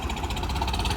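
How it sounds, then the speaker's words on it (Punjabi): A tractor engine runs close by with a steady low, throbbing rumble and a regular knocking beat. "ਗੱਗੂ ਲਿਆ ਟਰੈਕਟਰ ਵੀ ਓਏ"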